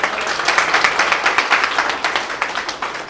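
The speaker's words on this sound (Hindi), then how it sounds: "एक बार इनके लिए जोरदार ताली बजा दीजिएगा" An audience at an RCM business event gives loud, close applause, with many hands clapping in a slightly pulsing rhythm for about three seconds and no talking over it.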